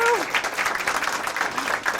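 An audience at an apitherapy conference talk applauds, a dense and steady burst of clapping that fills the whole short moment, with a voice briefly heard at the start.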